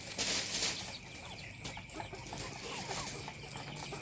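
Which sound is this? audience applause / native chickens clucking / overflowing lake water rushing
native chickens clucking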